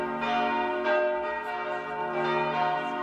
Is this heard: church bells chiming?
yes